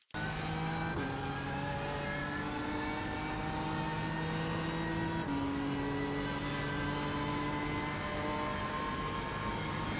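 A BMW M4 GT3 race car lapping Imola in iRacing, its engine a loud sustained whine that steps through gear changes at about one and five seconds, with steady high-pitched harmonics and no talking.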